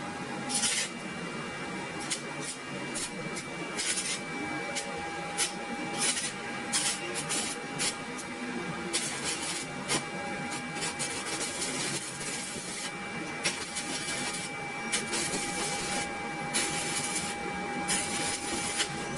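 A Powerweld 160A welding machine with a blinking display fault under test: a steady loud buzzing hiss with a faint electrical whine, broken by repeated crackling bursts over about twenty seconds, with no voices.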